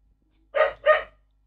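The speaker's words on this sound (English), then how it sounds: "Dog, be quiet." A dog gives two sharp, loud barks in quick succession, close to the microphone, with near silence before and after.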